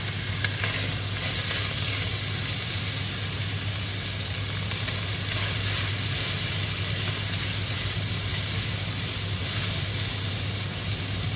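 Hot cast iron pot sizzling loudly and continuously while cooking a wild boar civet, a steady close hiss of frying with no talk.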